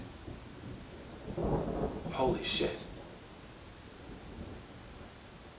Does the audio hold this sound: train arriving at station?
no